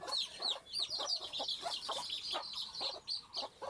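Several desi chickens cluck and chatter close by at feeding time on a farm, a busy overlapping run of short calls with no talking.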